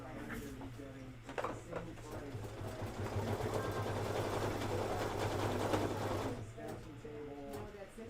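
A sewing machine runs a purple-thread satin stitch outline in a steady, even mechanical whir that lasts several seconds, fairly quiet, with a voice talking lightly around it at the start and end.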